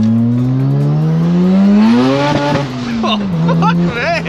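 A bridge-port rotary Mazda RX7 drives at Summernats, its engine note climbing steadily and then dropping back before revving again, loud and close throughout with voices inside the car.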